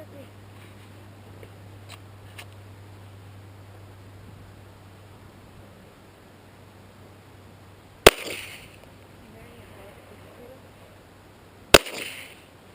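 Two sharp, loud shots from a Glock pistol ring out about four seconds apart during outdoor target shooting, each ending in a short echoing tail, with steady background hiss and hum between them.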